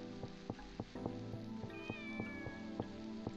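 A cat in the video game Shenmue meows, a thin high cry heard over a regular rhythmic ticking background and faint game ambience.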